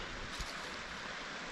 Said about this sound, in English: mountain stream.